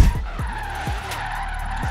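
Tires screech and skid as a car drifts in Forza Horizon 3 with a 1500 hp build, loud and continuous with engine roar and repeated revving pulses.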